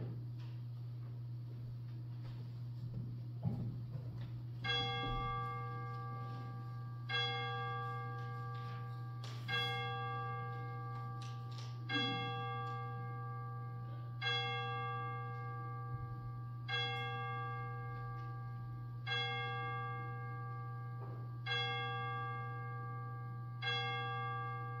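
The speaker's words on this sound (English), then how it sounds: "we will let the chimes bring us into worship" Church chimes ring out a slow melodic sequence of about eight bell strikes, each note sustaining and decaying before the next, opening Sunday worship at a United Church of Christ congregation in Schoenersville, heard steadily over a constant low hum with no talking.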